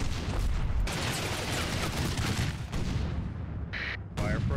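Heavy battle gunfire around a German anti-tank gun in Combat Mission, dense continuous bursts and booms under a steady roar, with a brief pause before the firing resumes.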